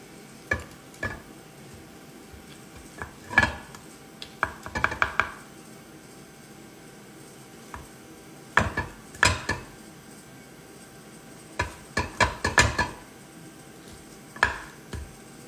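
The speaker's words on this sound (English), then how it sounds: "Let's cut into this. I have a spatula." A spatula cutting and scraping through a pizza frittata in a pan, heard as scattered sharp metallic scrapes and clinks in short bursts, close and moderately loud, with quiet gaps between.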